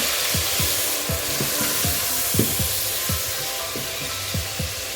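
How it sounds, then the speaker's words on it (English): Tomato sizzles and fries steadily in a pan for Kenyan-style kienyeji chicken, a continuous close hiss broken by regular scraping stirs, with no voices. "Add our tomato. And then again allow it to cook."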